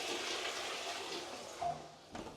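A Japanese-style toilet in a hotel room near Zhangjiajie national park flushes with a close rush of swirling water that runs steadily, then tails off into a short refill gurgle.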